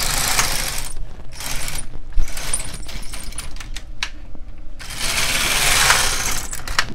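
The carriage of an LK 150 knitting machine slides across the needle bed knitting rows, a busy mechanical clatter of ticks and rattles in two passes with a short quieter stretch between them.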